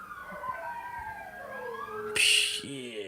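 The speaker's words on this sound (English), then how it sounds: "That's highway patrol. You can hear the different sirens." Wailing highway patrol sirens from several vehicles sweep up and down in overlapping tones, followed by a loud burst of broadband noise near the end.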